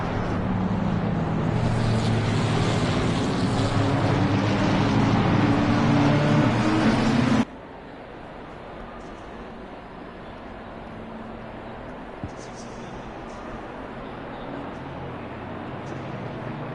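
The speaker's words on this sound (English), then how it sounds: "so we can hear the beautiful sound of these GT3 cars" GT3 race cars in a sim racing game, a one-hour league race at Laguna Seca: a loud, steady engine roar fills the first half, then drops abruptly to a much quieter, distant hum.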